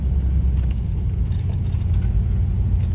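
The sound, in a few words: vehicle driving by a business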